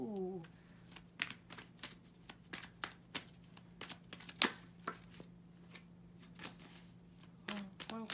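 A tarot card deck being shuffled, a long run of sharp riffling snaps and flicks in irregular bursts, close and fairly quiet, with a brief voice at the very start and end.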